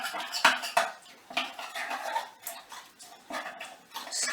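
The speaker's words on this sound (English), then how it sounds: "Stirring all the time." A spoon stirs an egg and flour paste in a pot on a range, with repeated close clinks and scrapes of metal against the pot in an uneven rhythm.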